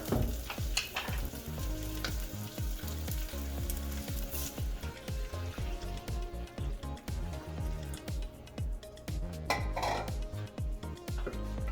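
Caramelized onions in hot oil sizzle and fry loudly and steadily as vegetable stock is added, with repeated scraping and stirring clatter of a utensil against the pan throughout.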